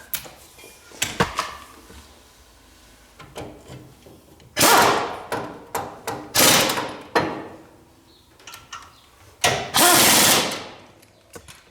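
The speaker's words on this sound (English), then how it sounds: "I'm going to bring my impact wrench back in" Several short, loud bursts of a pneumatic impact wrench hammering GM caliper bracket bolts tight on a Chevrolet or GMC truck, separated by quiet pauses and small clanks of handling.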